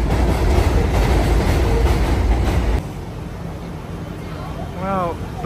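A New York subway train rides along with loud rumbling and clatter that suddenly drops to a quieter interior hum partway through, with a brief whining tone near the end.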